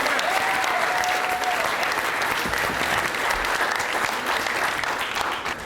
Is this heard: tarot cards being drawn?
no